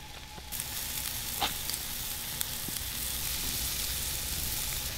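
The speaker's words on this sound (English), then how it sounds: "Let our skewers get browned off here." Seafood kabob skewers sizzle steadily on a grill with seasoned butter, a constant close crackling hiss with a few small pops, no talk.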